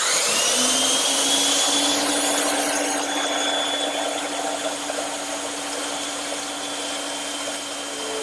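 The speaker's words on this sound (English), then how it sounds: "I'll just hold a couple pieces together and cut them on the bandsaw." A bandsaw cuts through two stacked pieces of half-inch wood stock for wedges, giving a loud, steady whirring drone with a sustained hum that continues throughout without speech.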